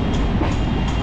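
A Majerhat–Barasat local train runs along in Kolkata with a loud, dense rumble and rattle of carriages rolling over the rails, steady and close.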